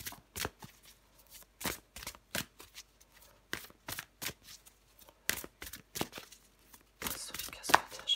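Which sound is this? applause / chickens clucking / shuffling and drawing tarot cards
shuffling and drawing tarot cards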